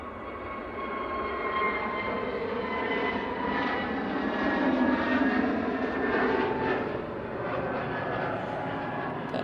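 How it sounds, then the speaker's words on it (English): An EasyJet Airbus A320neo airliner bound for Alicante roars steadily at an airport, a broad, sustained jet engine rumble holding loud and fairly close across the whole stretch with no voices over it. "This is the EasyJet Alicante A320 Neo."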